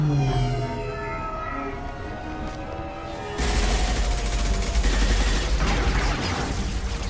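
Gunfire erupts in the video game Mass Effect 2 during a squad firefight, a dense, loud burst of rapid shots and blasts that starts after a tonal musical lead-in and continues steadily to the end.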